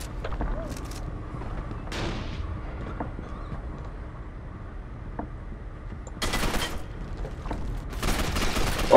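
Bursts of gunfire from the video game Gotham City Impostors, two clusters of sharp broadband shots toward the end, loud and close, over a low steady game background with some faint chatter.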